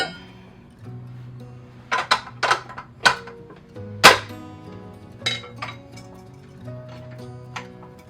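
Metal KitchenAid stand mixer attachments clink against each other as they are placed into the mixer bowl for storage, a series of sharp, close taps and knocks at uneven intervals with no talking.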